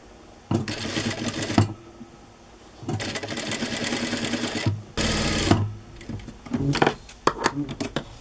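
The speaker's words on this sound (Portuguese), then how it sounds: "E passa a costura aqui." A sewing machine stitching a dress seam runs in three loud, close bursts, with pauses and a few clicks and handling noises between runs, and no talk.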